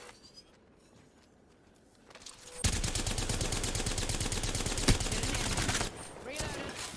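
A sustained burst of rapid automatic gunfire in a late-night shooter video game, loud and continuous for about three seconds with one sharper shot, preceded by quieter ambient game sound and a faint voice.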